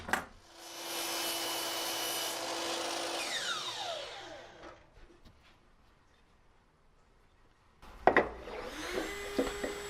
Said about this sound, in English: Then I'll take that to the miter saw and trim off these corners